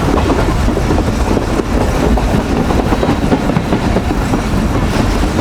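Millat Express passenger train rolling steadily along the rails, a loud continuous rumble with rhythmic clickety-clack from the wheels over track joints, heard from onboard with no talk.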